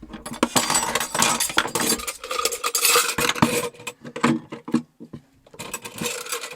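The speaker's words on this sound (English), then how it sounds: "So this is how I do my dishes." Silverware and dishes clink and scrape as they are washed in a pan of boiled water inside an RV in winter, with close, irregular clatter and stirring throughout and brief pauses.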